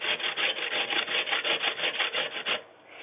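Potatoes scraped back and forth over a sharp hand grater for Kartoffelpuffer, making quick, steady rasping strokes close up that stop abruptly near the end, with no talking.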